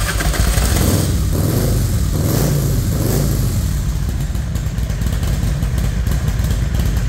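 A Harley Ultima Black Diamond 1550 chopper with a 2-into-1 exhaust fires up and runs, its loud, close engine rumbling and revving steadily for several seconds without a break.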